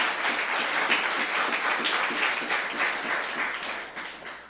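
A church congregation at a youth service applauds in a steady, dense wash of clapping, moderately loud and continuous, with no talk over it.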